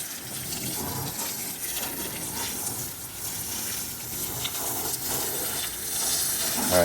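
A garden hose sprays water hard onto a pickup truck's tonneau cover, a steady close hiss and splatter that swells slightly toward the end, with no talk.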